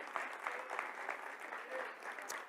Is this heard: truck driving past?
no